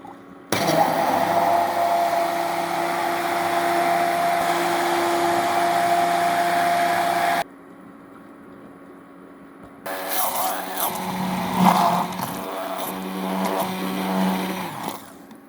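A blender whips strawberries into a milk drink, running loud and steady for about seven seconds, stopping, then starting again with a rougher, churning whir.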